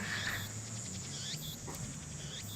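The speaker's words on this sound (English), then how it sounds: "those are cicadas most likely" Cicadas in Japan trill in a steady, fairly faint insect chorus, with repeated high buzzing pulses and chirps over a low continuous background hum.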